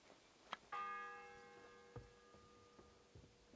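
A church bell tolls once in Kingdom Come: Deliverance II, a loud ringing strike whose hum rings out and slowly fades over several seconds, with a few faint clicks and knocks around it.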